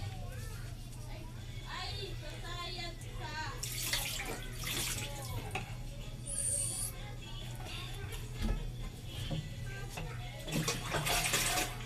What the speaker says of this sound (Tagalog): So, ngayon, kumukuha ako ng tubig.